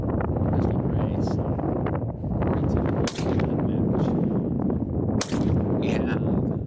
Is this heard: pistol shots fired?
yes